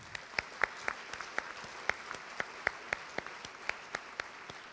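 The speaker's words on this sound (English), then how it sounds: "let's give them a round of applause" A round of applause at a women in business awards event, heard as sparse, fairly quiet individual claps in an uneven rhythm rather than a full roar.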